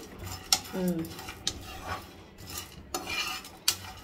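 Peanuts and dry spice masala are stirred while roasting in a pan for Hyderabadi-style bagara baingan, with repeated scraping strokes and sharp metal clinks of a spoon against the pan over a light, dry sizzle.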